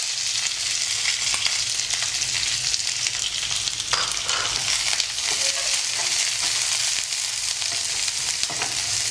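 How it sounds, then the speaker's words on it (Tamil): Onions and curry leaves sizzle and fry steadily on a hot tawa, a loud continuous crackle with occasional stirring scrapes, no talk. "இதில் இந்த வெங்காயத்தை வதக்க போட்டு விடுறேன். வெங்காயமும் கறி லீவ்ஸும் போடுறேன்."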